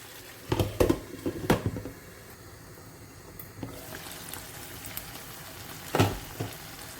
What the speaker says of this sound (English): Let it simmer for about 3 minutes.